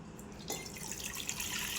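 Water is poured into a glass in a short, quiet splash that starts partway through and runs on as a soft, continuous trickle, with no talking.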